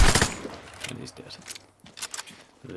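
Gunfire in the video game Vigor, aimed at a body, opens with a quick, loud burst of shots, followed by quieter game noise and a voice talking over it.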